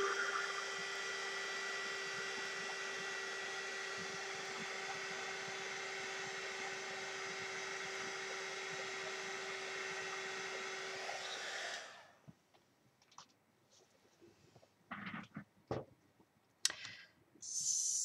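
Heat tool blowing hot air to set embossing powder in card making, a loud continuous whooshing whir close up for about twelve seconds that then switches off, leaving quiet handling sounds.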